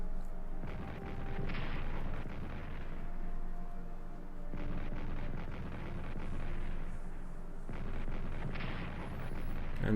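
Strategic Command: World War I artillery fire, repeated heavy booms rolling in several swells with rumbling gaps between them, at a moderate distance and with no voices.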